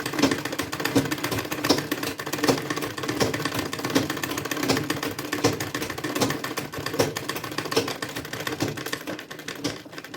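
A sewing machine runs a steady stitching line on a potli bag's drawstring channel, its dense mechanical chatter continuous and close throughout with no voices.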